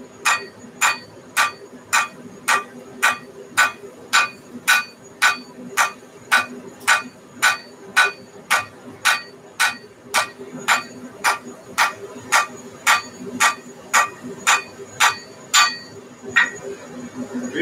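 Hammer blows forging a mild steel and 5160 Viking axe head while drawing out the bevel, about two dozen sharp ringing strikes in a steady, even rhythm, close and loud with a brief pause near the end.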